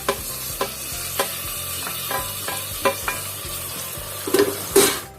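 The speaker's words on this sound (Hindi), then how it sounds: "टमाटर डाल देंगे।" Tomatoes and green chillies fry in a pan for a lauki chana dal, sizzling steadily while a spoon scrapes and knocks against the pan in a regular rhythm, ending in a few louder metallic clanks.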